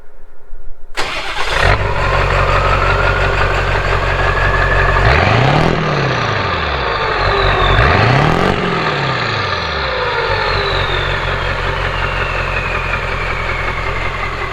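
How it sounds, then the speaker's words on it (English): A Ford 7.3L Powerstroke diesel truck with a restrictive stock downpipe starts up and settles into a steady, loud idle, its low engine rumble filling the whole stretch with a couple of brief revs along the way. "It's not a bad sounding truck for sure, but it has the restrictive downpipe in it."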